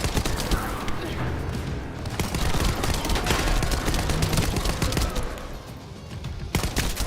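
Continuous dense weapon fire in a video game, a loud crackling barrage of rapid shots that runs the whole time with slight swells and dips.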